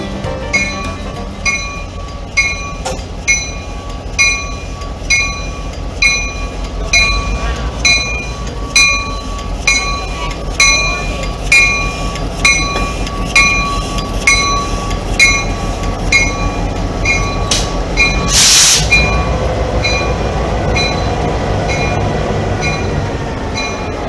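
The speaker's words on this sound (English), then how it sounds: "number 5000 pulls up to the platform with the cars for the dinner train." Southern steam locomotive 630 rolls slowly into a platform with dinner-train cars, steady rhythmic clicking of wheels over rail joints, a sharp high squeal or whistle blast briefly rising near the end.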